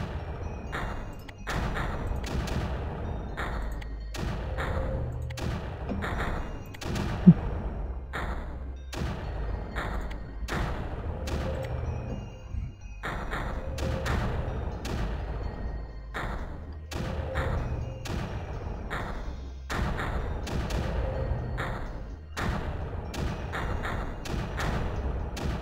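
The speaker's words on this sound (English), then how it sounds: "I got a few more mortars in here." Mortars firing in the video game Creeper World, a steady run of dull thumps repeating every second or so over a constant low hum, fairly loud and unbroken, with no talk.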